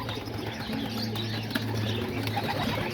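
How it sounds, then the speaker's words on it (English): Homing pigeons gathered by a loft door give low, steady cooing with occasional soft wing flaps, a continuous close murmur with no talking. "There you can see all the adult pigeons right here just hanging out right here by the door."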